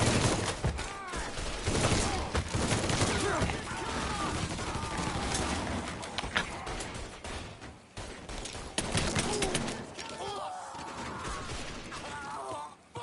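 Mafia III gunfire erupts in dense, repeated volleys of shots and impacts, loud and close, while a voice shouts and other game sounds clatter underneath.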